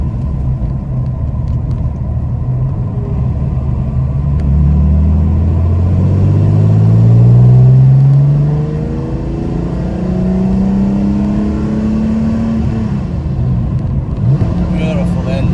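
A 2005 TVR Sagaris sports car engine revs up and down with rising and falling pitch, a steady rumbling drone throughout, swelling loudest in the middle.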